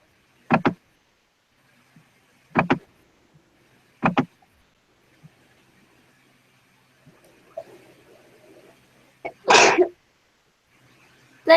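A single loud, close sneeze bursts out in a college math classroom, preceded by several sharp knocks and faint background murmuring.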